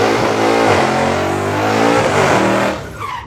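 A drag race car's engine revs loud and close, a sustained roaring drone with harmonics that rise and dip, then tails off near the end under a brief higher whine.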